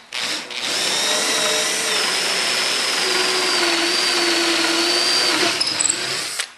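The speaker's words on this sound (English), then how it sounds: "You then have to drill a set of holes in a line" A loud, close power drill whirs continuously for about six seconds while boring a line of holes through a wooden model-train layout table, starting with a brief burst before settling into a steady high-pitched grind and then stopping.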